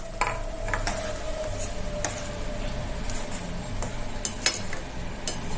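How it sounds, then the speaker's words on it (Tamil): Shallots and garlic being stirred in a pan, a steady close sizzle with sharp scraping clicks of a utensil against the pan at irregular intervals, no voices. "சேர்த்துட்டு நல்லா கலந்து விட்டுக்கலாம் ஒரு முறை."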